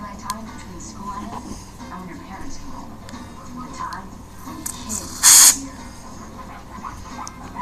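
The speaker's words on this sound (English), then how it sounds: "just spray some down on the wick" A short, sharp hiss of fluid sprayed from a can onto the wick of a Zippo lighter, one loud burst lasting under half a second, standing out against quieter room noise and faint talk.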